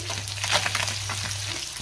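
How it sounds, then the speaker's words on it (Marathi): Loud, continuous sizzling of fish frying in hot oil, crackling and spitting steadily close by with no talking. "दुसऱ्या साईडने सुद्धा मी 2 मिनिटं फिश चांगला फ्राय होऊन देणार आहे"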